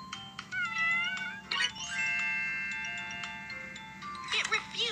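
A cartoon kitten in a Baby Panda children's video game gives several short, bright electronic meows, with chiming game tones and a sustained musical jingle beneath them.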